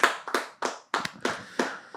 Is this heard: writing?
no